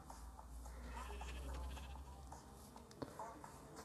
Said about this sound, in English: That's a pink sheep.